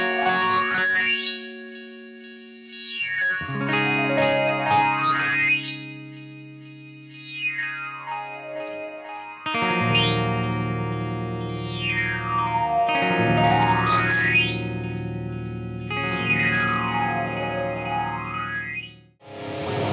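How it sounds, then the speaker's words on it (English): BOSS DD500 delay pedal in the effects loop of an unmodified Mesa Boogie Mark V amp: sustained distorted guitar chords drenched in swirling, pitch-sweeping modulated echoes that rise and fall in repeating waves, loud and continuous with no talking. "what you're going to be hearing is this inside the effects loop of a Mesa Boogie Mark V, just a standard amp, no mods"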